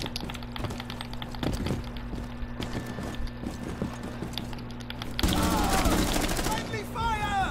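Video game gunfire in a multiplayer shooter: repeated sharp shots crack through a busy mix of hum and effects, then a louder burst of chaotic noise near the end, with players' voices nearby.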